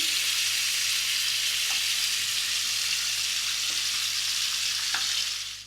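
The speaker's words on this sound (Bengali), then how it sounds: "পটলটা আমি দু মিনিট ভেজে নিয়েছি" Pointed gourd frying in hot oil in a pan, a steady, close sizzle running throughout with a few faint clicks, no voices.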